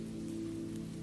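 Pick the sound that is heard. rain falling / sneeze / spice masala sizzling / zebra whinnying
rain falling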